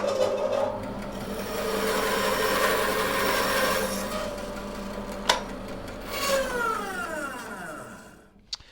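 A bandsaw cuts through a wooden box blank, cutting it in half in a workshop: a steady rasping whine of blade through wood runs close and loud for several seconds, then winds down as the motor coasts to a stop.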